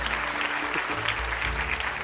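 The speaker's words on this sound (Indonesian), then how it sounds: "teman-teman di sini juga tuh tepuk tangan deh buat Ahmad supaya semangat ya" Studio audience applause on an Indonesian children's Quran memorization TV show, encouraging contestant Ahmad; brief, continuous clapping with a low musical hum underneath.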